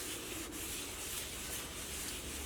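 Oil is wiped across a hot iron dosa tawa, a soft, steady rubbing scrape held close and faint, with one brief sharper scuff near the start.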